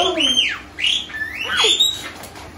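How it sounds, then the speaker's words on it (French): A pet bird indoors in a studio gives a run of loud, close chirps and sweeping whistled calls, several in quick succession with short pauses between. "Il est cinglé ce oiseau."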